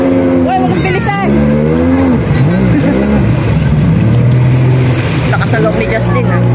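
Jet ski engines running on open water, one rider pushing hard: a loud, close motor whine rising and falling with throttle changes, with wind and splashing, while people shout and talk over it.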